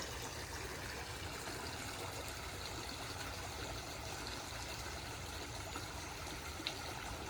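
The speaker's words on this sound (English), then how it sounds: "You can just sit here and listen to the water just right on by." River water at Landsford Canal in Catawba, South Carolina rushes steadily over rocky shoals, a faint, even, continuous wash with no break.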